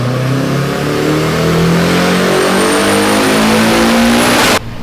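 A turbocharged BMW E30 M3 engine revs hard and loud on a dyno pull, its pitch climbing steadily for several seconds before abruptly cutting off.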